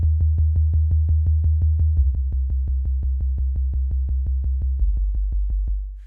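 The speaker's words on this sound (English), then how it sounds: "sine wave is way too low or just too dull of a sound" A low, pure sine-wave synth tone plays a steady arpeggio of evenly spaced eighth notes, stepping down in pitch, clean and alone with no voices.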